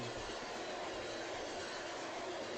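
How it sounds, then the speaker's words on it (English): A doubled-up coal train passes close by in a steady, dense roar of rolling wagons and wheel noise that fills the whole stretch without pause. "here is a doubled up coal train"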